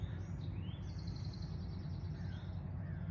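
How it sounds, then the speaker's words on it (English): Faint birdsong outdoors: a few thin, high chirps and short warbling phrases drifting over a steady low rumble, with no talking. "You can hear the birds."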